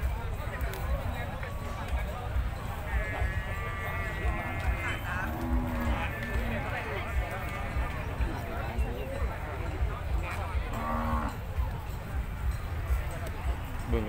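Water buffalo lowing at a livestock market in Yasothon, Thailand, with several drawn-out moos rising over a busy, crowded background while someone talks throughout.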